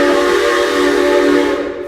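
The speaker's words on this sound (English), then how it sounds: "Speaking of the train." Steam train whistle at Silver Dollar City theme park, a loud sustained chord-like blast holding steady for about two seconds before easing slightly at the end, heard alone without talk.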